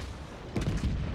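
Bayern battleship guns firing in World of Warships during a Tier 8 naval battle, a couple of deep booming salvos rolling in partway through over a low steady game rumble.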